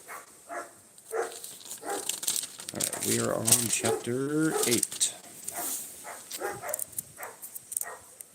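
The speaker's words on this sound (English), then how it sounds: "Don't mind the dogs, they bark at air" Dogs bark in the background, a few muffled yelps and barks heard beneath a man's steady, close reading voice.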